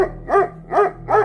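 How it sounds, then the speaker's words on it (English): A dog barks three times in an even rhythm, loud and close, each bark a short resonant woof with no voices around it. "4 days after I adopted Bella, I woke up to her barking."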